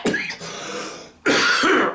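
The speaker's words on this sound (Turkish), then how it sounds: "Sizin için öksürüğü biraz daha dramatikleştirdim ama." A man coughs loudly and theatrically up close, two harsh rasping bursts separated by a short pause, the second longer and more strained.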